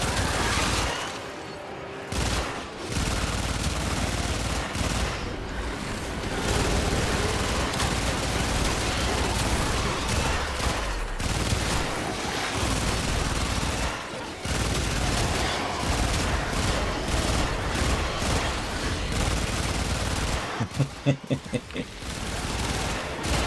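Gunfire from the video game Warframe: bursts of rapid shots and blasts run nearly throughout, with pauses and a rattling volley near the end, mixed with game effects.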